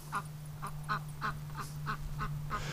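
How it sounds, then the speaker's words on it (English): Duck quacking in a steady series of about eight short, evenly spaced calls over a constant low electrical hum, fairly faint and with no voices. "He wants to smell the duck so bad."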